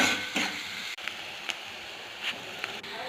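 Onion with cumin, turmeric and salt sizzles in hot oil as it is stirred, a soft continuous frying crackle broken by several brief scraping strokes of a spoon against the pan.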